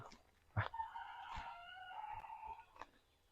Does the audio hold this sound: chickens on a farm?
yes